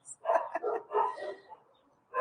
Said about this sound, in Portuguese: me desculpo por antecipação já aí nesse momento, por exemplo, a interferência ocasional dos meus cachorros